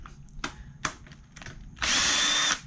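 A power drill fitted with a 10mm socket spins off nuts on a scooter during disassembly. One loud, steady whirring burst of under a second follows a few quiet handling clicks and knocks.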